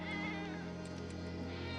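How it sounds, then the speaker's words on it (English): Cats in Final Fantasy VII Rebirth meow faintly in brief high calls over a steady droning game soundtrack that carries on underneath throughout. "So many cats."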